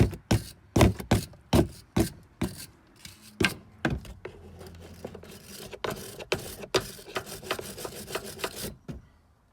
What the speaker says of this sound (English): Give the threads a clean.